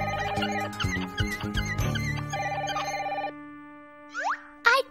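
An old-style telephone rings in an indoor cartoon scene, two bursts of bright electronic trills separated by short gaps, loud and close, followed by springy cartoon sound effects.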